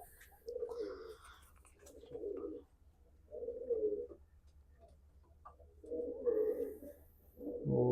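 Pigeons of Punjabi breeds at a fancier's loft coo in a series of about five rolling bursts spaced a second or so apart, near and clear with no talk over them.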